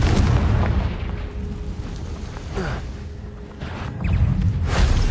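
Loud booming spell blasts in the Hogwarts Legacy wizarding video game, repeated fiery bursts over a constant low rumble, with a strong surge at the start and another near the end.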